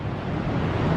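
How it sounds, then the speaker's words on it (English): Ocean waves break on a Florida beach as a steady, rushing roar with some wind noise on the microphone, heard from a nearby boardwalk. "I can hear the waves."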